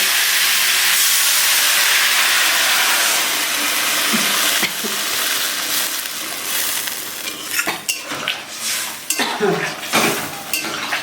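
Water is poured onto sautéed cauliflower and potato in a hot pan for a fish curry, a loud rushing sizzle that gives way to bubbling, clinks of a utensil against the pot and scattered stirring sounds.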